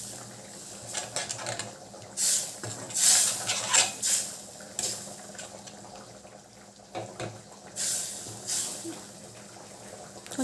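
Dried fish thokku with added water bubbles and simmers in a pan, with splashing, a few metallic clinks of a utensil and a rushing watery sound coming and going nearby.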